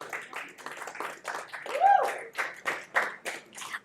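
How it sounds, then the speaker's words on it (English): An audience at a streaming platform launch event claps in short, choppy bursts, and a voice talks over the clapping throughout. "I like more of applause"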